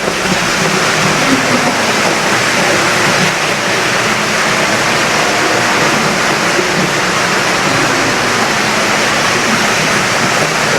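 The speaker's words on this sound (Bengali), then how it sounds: "সুন্দর একটা ঝর্ণা অসাধারণ" A waterfall at Radiant Fish World in Cox's Bazar roars loud and close, a constant broadband rush of falling water with no pauses throughout.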